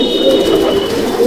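Malbai or Panjabi breed pigeons coo softly and steadily inside a pigeon loft, one continuous close low cooing throughout.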